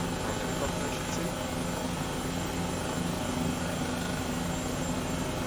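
An Airbus H135 helicopter in the flight simulator MSFS2020 produces a constant, droning turbine whine and rotor hum, steady and unbroken at a moderate level, with someone talking over it.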